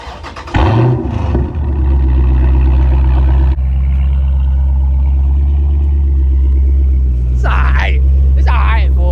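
Dodge Charger 392 Scat Pack V8 exhaust, a deep loud rumble that starts with a sharp rev, settles into a heavy steady idle, then blips twice near the end, with someone talking over it.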